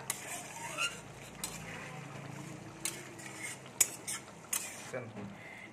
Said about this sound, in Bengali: কস্তুরি মেথিগুলো আমি দিয়ে দিচ্ছি, দিয়ে একটু ভালো করে নেড়ে নেবো